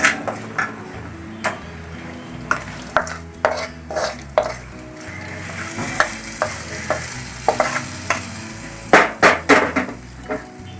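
Raisins fried in ghee being poured and stirred into pumpkin payasam, with a sizzle and repeated sharp clinks of a spoon against the pot, close and fairly loud, no talk.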